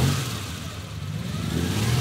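A 50-year-old Ferrari 275 engine at the Greenwich Concours d'Elegance rumbles loud and close, a dense, steady mechanical roar with a low throb that swells slightly toward the end.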